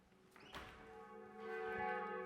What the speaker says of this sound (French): il y a les cloches qui sonnent. On a le clocher qui est juste là